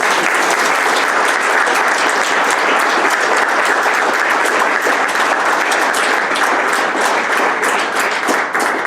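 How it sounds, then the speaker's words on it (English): A banquet audience at a newspaper hall of fame ceremony gives a sustained round of applause, dense, loud and steady throughout with no break. "Let's give a round of applause."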